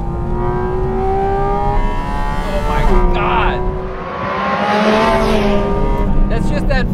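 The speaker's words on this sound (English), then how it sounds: "That's just that flat six buzzsaw" A Porsche Cayman GT4 RS flat-six engine revs with a high, buzzing rasp that rises and falls, loud and close, over constant talking.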